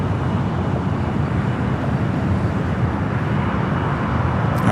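A Delta Boeing 757 airliner arriving from Boston at LAX produces a steady, broadband jet roar that stays loud and even from start to finish, with no other sounds standing out.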